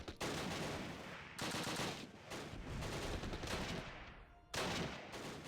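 An MG42 machine gun rattles off long, rapid bursts in the wartime strategy game Close Combat, the dense automatic fire loud and sustained, broken by brief pauses between bursts, with other battlefield shots mixed in and no voices.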